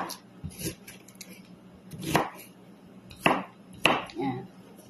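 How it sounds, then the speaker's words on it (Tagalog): Vegetables sliced into long strips on a cutting board for macarona, with a handful of crisp knife chops arriving unevenly, close and fairly loud against a quiet room. "Hiwain mo ng pahaba yung mga gulay."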